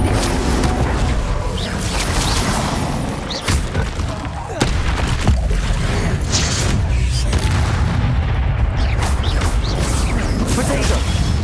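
Spell explosions in the Hogwarts Legacy video game, repeated booming blasts and crashes during magical combat, loud and densely layered with sharp impacts over a constant rumbling bed.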